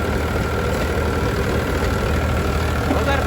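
A tractor engine works with a rotavator in a field, a steady loud low rumble running without change throughout and with no speech.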